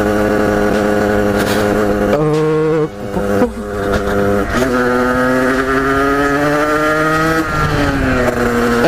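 A motorcycle engine runs steadily nearby, its buzzing drone dipping briefly and then rising and shifting pitch as the throttle changes.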